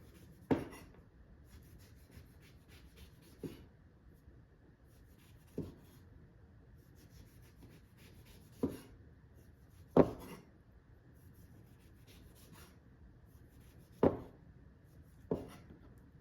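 Knife working around a whole orange to trim away peel and membrane while supreming it, giving seven or eight short, crisp cuts at irregular intervals over a faint, steady background.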